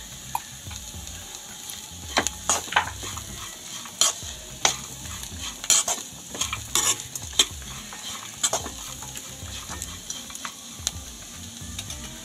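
Vegetables fry in a pan as turmeric is added, with a steady soft sizzle under repeated sharp scrapes and clinks of a spoon stirring against the pan.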